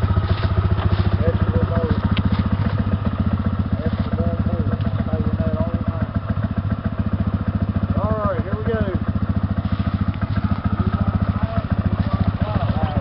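A four-wheeler ATV engine runs nearby with a steady, buzzing idle throughout, while people talk and exclaim excitedly over it.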